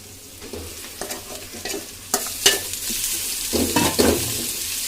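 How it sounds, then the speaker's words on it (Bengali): Meat filling for gosht pitha fries in a pan with a steady sizzle while a spatula stirs and scrapes against the metal in irregular bursts, growing louder toward the end, with no one speaking. "ইয়াটা ভাজা ভাজা হয়ে গিয়েছে, মাংসটা দিয়ে দিচ্ছি"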